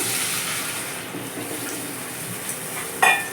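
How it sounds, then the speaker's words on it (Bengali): Water poured into a pan of fried-down spice paste for a light rohu fish curry with vegetables, a continuous close splashing rush with a brief clatter near the end. "মশলাটা কষা হয়ে গেছে এবার আমি জল দিয়ে দিলাম"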